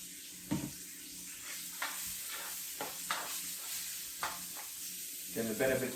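Carrot, onion, baby bok choy and snow peas dry frying in a hot pan for ramen, giving a steady sizzle with intermittent stirring clatters and scrapes, close and moderately loud.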